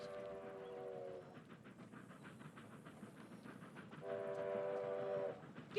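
A train bears down on the tracks in a film scene, a rumbling roll of wheels and cars with a sustained horn blaring at the start and again near the end, no voices.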